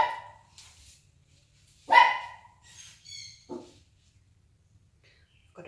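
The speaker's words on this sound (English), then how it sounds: "I've got a dog sitting down here next to me. What are you barking at, Izzy?" A dog sitting indoors beside a person doing acrylic paint flip-cup pouring barks in a few sharp, spaced-out yaps, near and moderately loud, with quiet gaps between them.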